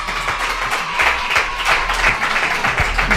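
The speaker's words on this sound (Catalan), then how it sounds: "Un aplaudiment per ell, si us plau." Audience applause for a guest on a Catalan podcast, a steady dense patter of clapping lasting a few seconds, moderately loud and without talk.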